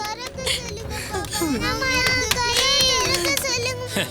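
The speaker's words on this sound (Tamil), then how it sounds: "ஐயா, குழந்தைங்க பயத்துல கத்துதுங்க ஐயா." Children screaming in fear indoors, shrill wavering cries and wails rising and falling over one another, loud and close, mixed with agitated voices.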